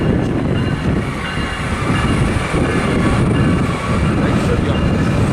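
A crowded passenger train in San Diego rumbles past close by, a steady loud roar of wheels and rail noise with faint hiss, continuous throughout.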